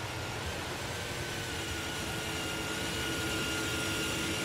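Aircraft engine starting up in Microsoft Flight Simulator 2024, a steady, loud, even whine and rumble that holds without a break.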